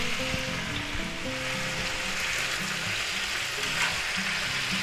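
Potatoes fry in a pan with a steady, dense sizzle close by, and a few faint clinks and stirs sit beneath the constant crackle.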